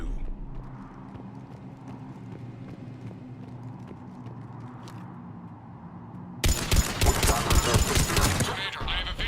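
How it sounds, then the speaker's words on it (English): Mass Effect 3 combat with a Cerberus cannon firing: a low rumbling din gives way to a sudden loud burst of rapid, crackling heavy gunfire in the final seconds. "The cannon fire is clearing the way."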